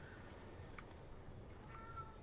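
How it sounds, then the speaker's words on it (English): A pet cat meows faintly in the background, a couple of soft, brief calls barely rising above a steady low room hum. "Probably hear my cat in the background."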